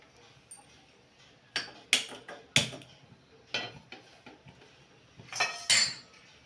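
A pan is set onto a stove to heat while making bread pizza, giving a few faint metallic clinks and knocks spread across a quiet kitchen, with some light handling in between.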